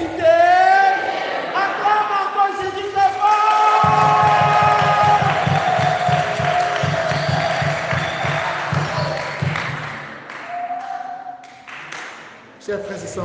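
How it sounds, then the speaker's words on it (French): A congregation at an Easter Vigil Mass loudly acclaims Jesus, voices raised together in sustained cheering and calls, swelling with rhythmic clapping partway through before fading toward the end. "Acclame encore Jésus très fort."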